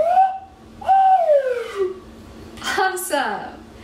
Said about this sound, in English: And now we'll test if this works as a slide whistle.